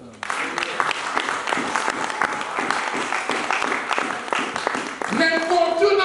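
Congregation applauding in a church during a sermon, a sustained patter of many hands clapping, fairly loud and close, with a voice rising over it near the end.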